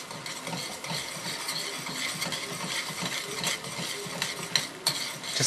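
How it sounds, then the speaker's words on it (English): Ginger and garlic are stirred with onion and shallot in a pan over medium heat, giving a steady sizzle with continuous scraping and clinking of a utensil against the pan, close and fairly loud. "Just keep stirring for a couple minutes."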